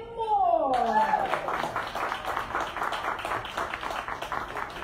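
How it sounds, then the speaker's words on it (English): An audience applauds a show host at a music variety show in a small venue, a steady patter of clapping that starts after a brief musical flourish and carries on under a talking voice. "If you would please give a round of applause"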